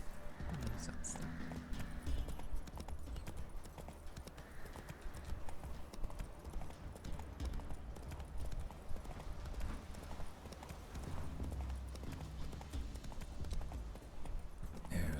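Horse hooves clip-clopping in The Witcher 3 video game, a steady rhythmic trot of hoofbeats running throughout alongside game ambience, with talk over parts of it.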